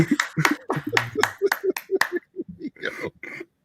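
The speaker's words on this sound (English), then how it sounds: "This is my clap." Close, sharp hand claps in a quick rhythmic pattern, about a dozen in all, loosening toward the end, with voice-like sounds mixed among them.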